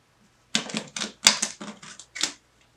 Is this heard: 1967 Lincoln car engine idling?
no